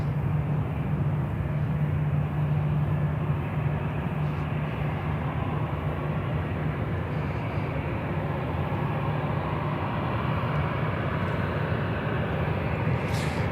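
An American Airlines Airbus A319 about 25 years old, arriving from Minneapolis and landing on runway 36 left at Charlotte airport, giving a steady, loud jet roar that holds unchanged throughout.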